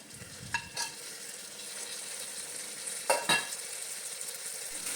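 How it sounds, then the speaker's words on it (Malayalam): Chopped tomato sizzles in a frying pan for dal fry, with a steady low hiss throughout and a few distinct scraping stirs of a spoon near the start and again after three seconds. "അതും കൂടി ഇട്ട് നമുക്ക് നന്നായിട്ട് ഒന്നുകൂടെ ഒന്ന് മിക്സ് ചെയ്ത് കൊടുക്കാം"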